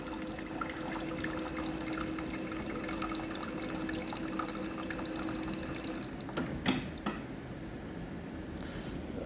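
A Frankie A600 coffee machine dispenses a simulated cold-milk cycle, giving a steady close stream of liquid pouring into a cup over a faint pump hum, with a couple of brief clicks near the end.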